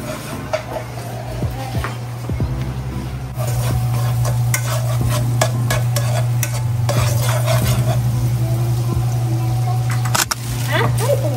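Ground beef sizzling and frying steadily in a pan while a utensil stirs and scrapes through it in repeated strokes, with people talking close by over the cooking noise.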